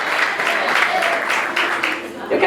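Church congregation clapping during an evening evangelical service, a brisk burst of many hands in loose rhythm, fairly loud and close, with a voice rising at the end.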